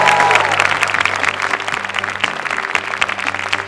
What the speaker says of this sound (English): Audience, give yourselves a round of applause.